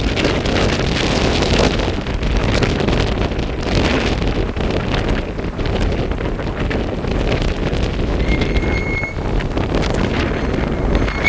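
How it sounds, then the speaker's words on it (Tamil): Strong storm wind roars constantly by a rough sea, buffeting the microphone with heavy gusts over the churning surf. "காற்று வீசி கொண்டிருக்கு வேறு காற்றுக்கு வீசி கொண்டிருக்கு"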